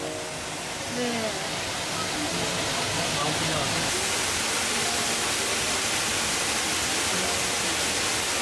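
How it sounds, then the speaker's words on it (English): Waterfall inside Düden cave in Antalya, a steady, loud, close roar of falling water that fills the whole clip as a dense broadband rush, with faint voices underneath. "We're in the cave. And the waterfall is right there."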